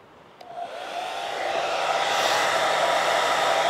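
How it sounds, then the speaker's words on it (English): An 1875-watt hair dryer run from a portable power station whirs to life and builds into a loud, steady blowing roar that holds to the end. "the last test I'll do is an 1875 watt hair dryer"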